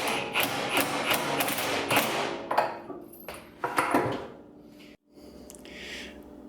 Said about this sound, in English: I'm going to nudge it along ever so slightly with the impact wrench just to get it to go